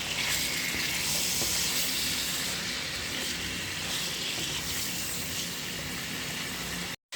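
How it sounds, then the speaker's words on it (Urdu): Chicken fries in ghee in a pan for a Punjabi-style chicken masala, a steady loud hissing sizzle that runs unbroken for several seconds, then cuts off abruptly. "اب چکن کا کلر چینج ہونے تک فرائی کر لیں گے۔"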